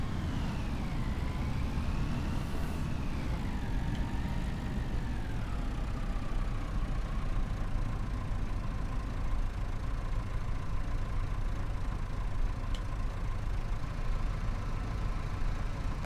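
An old Massey Ferguson tractor in Farming Simulator 25 idles steadily, a constant low engine rumble that holds throughout with a faint whining tone that dips early then settles, heard alone.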